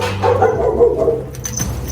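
A dog on a hillside viewpoint during a trip in Turkey gives a short run of barks and yips over windy outdoor background noise, moderately close, with no voices.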